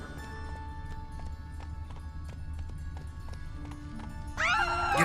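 Galloping horse in the video game The Witcher 3, a steady rhythmic clip-clop of hooves over ambient game sound, ending as a loud burst of swooping tones rises over it.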